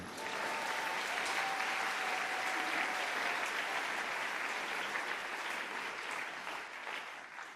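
A church congregation claps continuously in a dense, sustained wave of applause, evenly loud throughout and easing slightly toward the end, with faint crowd murmur beneath.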